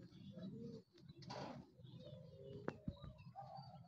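A racing pigeon at a derby in Tagudin, Ilocos coos softly near the microphone, its low calls mixed with a brief rustle and faint talk.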